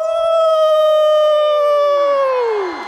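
A wolf howl on a stage performance show: one long, loud, sustained howl that slides steadily downward in pitch and fades at the end, heard alone and up close.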